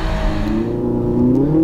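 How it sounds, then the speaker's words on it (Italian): A Lamborghini Aventador's V12 engine revs loudly and close, its pitch climbing steadily in a brief rising pull. "Senti come suona sto V12 Lamborghini."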